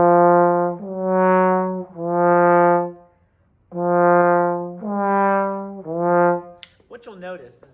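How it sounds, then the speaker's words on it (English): A trombone plays a series of slurred note pairs with pulsing air, each tone swelling and fading in a wavering rhythm, loud and close, ending as a voice begins talking. "they tend to pulse their air a little bit, and it sounds kind of like this"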